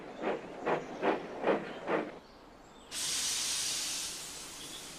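A model steam tank engine arriving at a station gives five rhythmic chuffs, falls quiet, then lets out a long, sustained hiss of steam that slowly fades.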